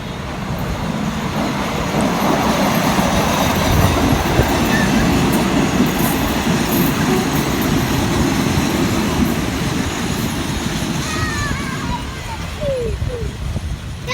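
Ordinary train 262, running from Hua Hin to Bangkok, rolls into a Thai station platform with a loud, continuous rumble and wheel noise, and faint brake squeals appear toward the end.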